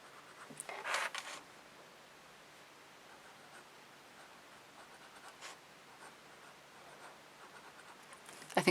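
A pen writes in a paper planner with a brief burst of scratching strokes near the start, then faint, quiet scribbling and light rustling of pages through the rest.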